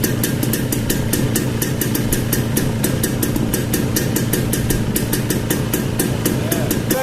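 Two-stroke engine idling on a chopper motorcycle build: a fast, steady, buzzing putter with rapid regular pops, close and loud, continuing without a break throughout.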